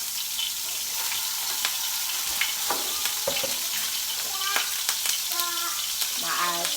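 Minced ginger and garlic fry in hot oil, a steady soft sizzle with crackling pops and a few stirring scrapes throughout, fairly quiet and close, with no talk.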